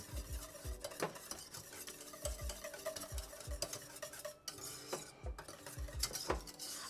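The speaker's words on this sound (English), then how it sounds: "Nice big generous pinch of salt in here," Salt being whisked into a béchamel sauce, with a quick rhythmic scraping and clinking of the whisk against the pot under a soft background sizzle.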